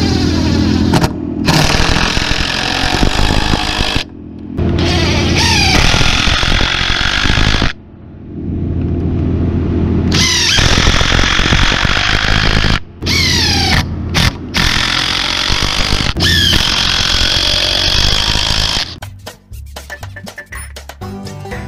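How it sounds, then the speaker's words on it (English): A power driver sets a screw into a porch roof beam, loud and close, running in several long bursts with brief gaps between them and a tapering whir at the end. "I'm setting one screw here that will pull down and in to keep this up tight against the outside of the beam."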